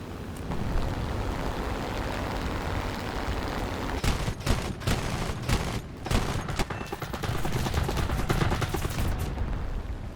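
Wirbelwind anti-aircraft vehicle firing in War Thunder, loud bursts of rapid automatic cannon fire crackling over a steady engine and battle rumble, with the heaviest volleys clustered in the middle stretch.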